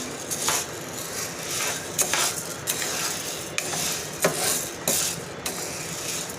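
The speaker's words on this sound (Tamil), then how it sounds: "வெள்ளச்சோளம் போட்டாச்சு இதையும் அதே மாதிரி வறுத்து எடுத்துக்கலாம்" White sorghum grains being dry roasted in a pan give off a steady scratchy rattle, with sharper scraping clatters every second or so as they are stirred. The sound is close and moderately loud, with no talking.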